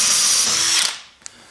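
Power drill whirring at high speed for under a second while working on a vehicle's motor and leaf springs, then winding down and stopping, followed by a brief click.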